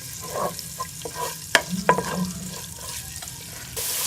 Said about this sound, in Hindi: लहसुन को फ्राई करते हुए 1 से 2 मिनट हो चुके हैं